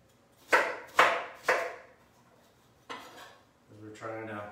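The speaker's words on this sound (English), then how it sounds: "And again, you're just kind of chopping it up a bit." A knife chops half a red onion on a cutting board: three sharp, evenly spaced thuds, a pause, then a couple more knocks, close and clear, with a faint voice joining at the end.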